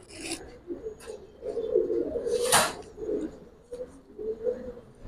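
Giribaz pigeons coo in repeated low throaty bursts close by, several calls overlapping in an uneven rhythm, with a brief rasping rustle in the middle.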